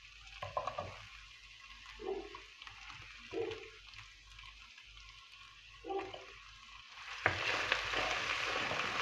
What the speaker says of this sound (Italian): vedete come riscalda subito i carciofi